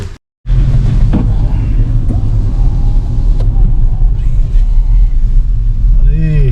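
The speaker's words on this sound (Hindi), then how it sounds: "स्किड कर रही है गाड़ी। हाँ स्किड कर रही है।" A car skids and rumbles along a snowy mountain road, with a steady, close engine and tyre rumble that runs on without a break after a short silence at the start. People speak over it.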